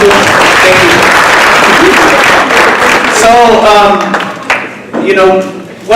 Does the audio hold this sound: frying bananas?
no